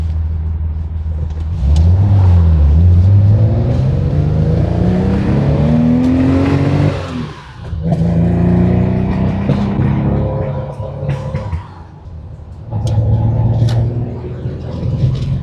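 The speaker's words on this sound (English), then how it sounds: "It does not feel like you're driving a 53-year-old car." A 53-year-old Porsche 911-T engine revs and accelerates while driving through West Seattle, with loud rising and falling engine tones, a brief dip near the middle, and continuous road rumble throughout.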